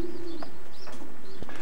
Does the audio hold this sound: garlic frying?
no